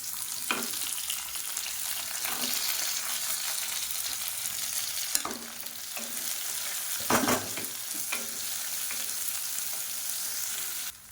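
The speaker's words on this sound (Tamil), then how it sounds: "இப்போ வெங்காயம் நல்லா வதங்கிடுச்சு." Chopped small shallots and large onions sizzle and fry in a pan for sambar, a steady close hiss broken by several sharp scraping stirs of a spoon, with no talking.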